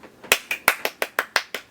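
Eight crisp hand claps in a quick, even rhythm, close and fairly loud, with no voices.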